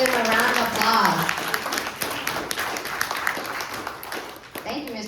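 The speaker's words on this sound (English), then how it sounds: "Everybody please give them a round of applause" An audience gives a round of applause at a Quilt of Valor honoring ceremony, steady clapping building after a voice and continuing, then fading as another voice starts at the end.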